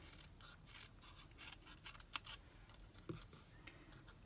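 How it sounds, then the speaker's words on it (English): Scissors cut Night of Navy cardstock in a run of crisp, quiet snips, close up, with soft rustling between cuts. "I just grabbed a tiny bit of Knight of Navy. And I cut that out."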